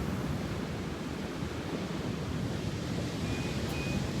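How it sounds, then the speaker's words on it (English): Fierce ocean surf at the shore makes a steady, broad roar of breaking waves, mixed with wind buffeting the microphone, with no pauses throughout. "Yeah, the ocean is fierce here."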